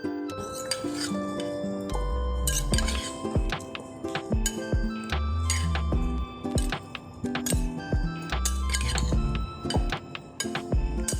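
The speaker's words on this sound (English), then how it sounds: "Then use a stainless steel spoon to mash them thoroughly until smooth." A stainless steel spoon mashes cooked sweet potatoes in a large glass bowl, giving dense, continuous clinks and scrapes against the glass with dull thuds of soft food, close and busy throughout with no speech.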